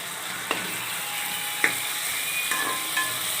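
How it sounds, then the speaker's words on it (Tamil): Sautéing in a pan before a tamarind and chili gravy goes in, a steady hissing fry close by with a few sharp utensil taps and scrapes against the pan. "நல்லா வதங்கட்டும், கொஞ்ச நேரம் வதங்கட்டும்."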